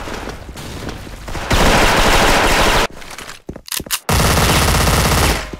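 Rapid automatic fire from dual MP9 submachine guns in the Special Force shooter game, loud sustained bursts broken by a short pause before another long stream of shots.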